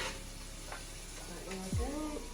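Salted mushrooms hiss and sizzle steadily in a hot pan as they are stirred, a continuous close frying crackle with a brief scrape of the utensil near the end.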